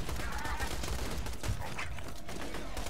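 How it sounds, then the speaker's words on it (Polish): Rapid shotgun fire crackles in Borderlands 2, a dense burst of shots over a constant noisy background. "Dwa strzały z mojej maszynoweczki, znaczy z shotgunika i po nim."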